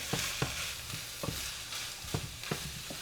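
Chopped onion fries with ground meat in a pan, a soft continuous sizzle punctuated by rhythmic clacks of a spoon stirring and scraping, close and alone.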